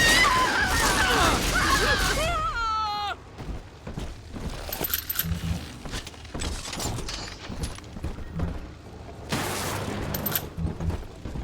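Enemies opening fire with guns in BioShock 2: after shouted dialogue, a volley of sharp cracks and clattering impacts breaks out, moderately loud amid in-game noise and music.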